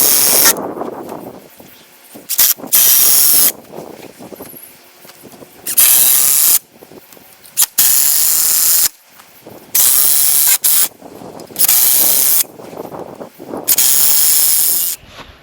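A power tool drives screws into fence hardware in repeated loud bursts of one to two seconds each, separated by short quiet pauses and light clatter, with no talking.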